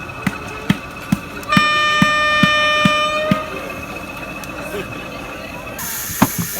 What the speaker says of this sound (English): Whistle blows, and away we go.